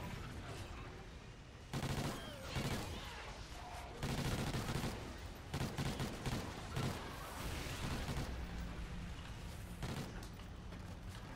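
Repeated gunfire bursts in the Pride of Cyrodiil hunting game, loud, close shots in clusters with dense rattling volleys over steady background noise.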